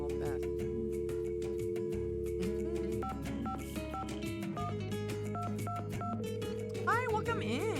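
Touch-tone beeps dial a phone number in a Nancy Drew mystery game, a quick series of short electronic tones over a sustained hum and steady game background, followed by rising warbly tones at the end.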